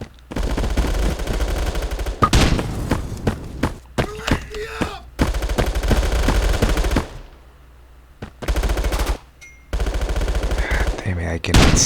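Gunfire in the Bullet Force shooter game, loud bursts of automatic rifle fire in repeated volleys separated by short gaps, with thuds between them and a player talking.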